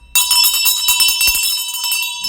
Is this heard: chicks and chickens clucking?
no